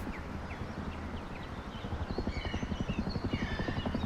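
An attack helicopter in the game Rust approaches through snow, its rotor thumping in a quickening rhythmic pulse that grows louder toward the end, faint at first.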